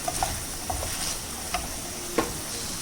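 Kala chana stirred with dry mango powder in a pan for Navratri prasad, a soft sizzle with a few light spoon taps and scrapes, brief and close, no talking.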